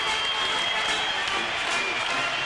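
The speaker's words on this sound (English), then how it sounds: "This crowd comes to its feet." A basketball arena crowd at a Utah Utes versus Weber State Wildcats men's game rises and cheers, a steady roar of voices and clapping that stays loud and unbroken throughout.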